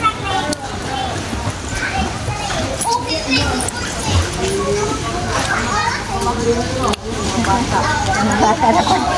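Children play and shout near a river at a beach park, their voices mixing into a steady, lively babble. Some faint clip-clop and other outdoor activity run underneath.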